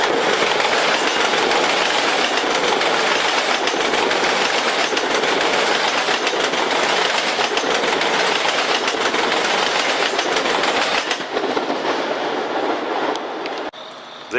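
A westbound Long Island Rail Road train roars steadily past Mineola station with dense wheel clatter, loud and close, before easing off near the end.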